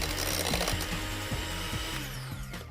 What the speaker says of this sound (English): I'm going to now whisk all these ingredients up again.